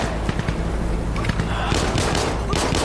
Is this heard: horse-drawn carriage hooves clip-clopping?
no